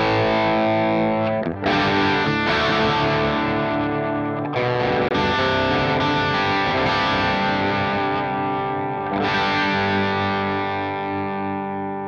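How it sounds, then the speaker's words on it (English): Electric guitar played through a Guitar ML Mark IIC Plus amp model on low gain, with a continuous run of crunchy, lightly driven chords and ringing notes, re-struck every few seconds, loud and with no talking. "Let's have a listen to the Mark II on a low gain setting."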